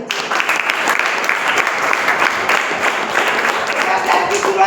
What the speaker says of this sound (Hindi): तो उनके लिए एक बार जोरदार ताली होनी चाहिए।